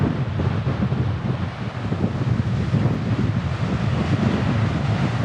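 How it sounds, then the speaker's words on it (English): Strong wind buffeting a microphone on a coastal headland on the NSW South Coast, a loud, continuous low roar with gusty rumbling surges and no voices. "Bloody hell, windy is an understatement."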